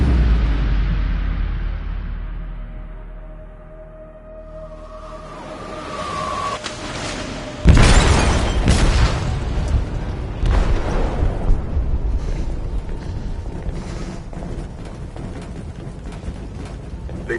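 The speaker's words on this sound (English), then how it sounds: "They detonated an explosive in the hold." A heavy explosive detonation booms inside a ship's hold in Detroit: Become Human, a sudden loud blast followed by rumbling, creaking and debris crashes that linger behind the fading opening noise.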